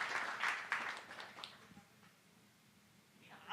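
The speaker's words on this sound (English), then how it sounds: "round of applause for the nerds" Brief, faint audience applause at an evening talk night, a short burst of clapping that quickly thins out into near quiet.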